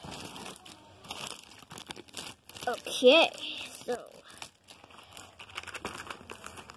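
Crinkly plastic packaging rustles and crackles in bursts while a voice speaks briefly nearby.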